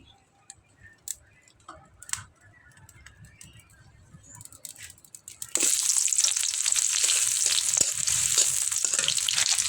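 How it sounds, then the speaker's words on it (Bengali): Chopped onion hits hot oil in a wok on a village clay stove: a few quiet clinks and taps, then a sudden loud, sustained sizzle and crackle that fills the rest. "এখন দিয়ে দিলাম কড়াইতে তেল এখন দিয়ে দেবো পেঁয়াজ কুচি"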